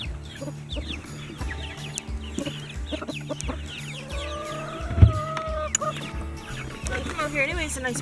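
Chickens cluck in a backyard coop during spring morning chores on an off-grid homestead, repeated nearby clucks and squawks with a louder burst midway, under people talking.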